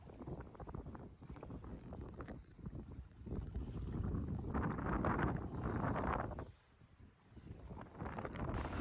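Gusty wind on the beam of a sailing boat, at 6 to 16 knots, buffets the microphone in uneven waves, with water sloshing underneath; the roar surges and drops briefly before picking up again.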